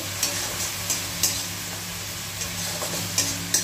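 Spice paste for a tilapia curry sautés over a low flame, a soft steady sizzle broken by repeated light scrapes and clinks of a spatula stirring against the pan, close and without speech.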